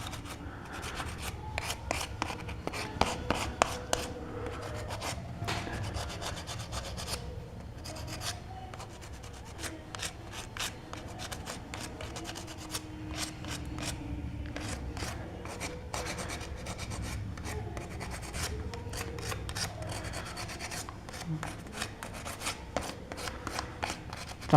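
Fine sandpaper rubbing over decorative gypsum stone cladding on a fireplace, producing a steady, quiet scratchy rasp broken by many short strokes and dry scuffs, close up with no talk.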